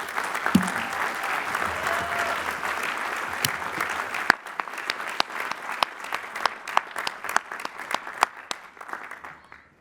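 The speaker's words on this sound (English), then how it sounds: "Please recognize the master's degree recipients with our hearty congratulations and applause." An audience at a university spring commencement applauds the master's degree recipients with steady, full clapping that thins after a few seconds into scattered, separate claps before fading out.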